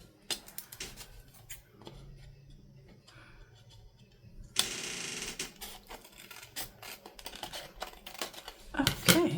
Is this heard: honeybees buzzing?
no